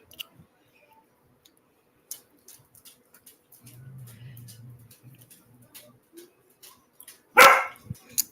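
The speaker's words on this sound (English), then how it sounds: "He's barking at the dark outside." A dog gives one loud, sharp bark late on, indoors, after a quiet stretch of faint clicks and a low murmur of voices.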